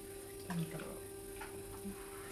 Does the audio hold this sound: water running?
yes